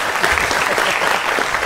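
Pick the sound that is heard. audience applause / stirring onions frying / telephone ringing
audience applause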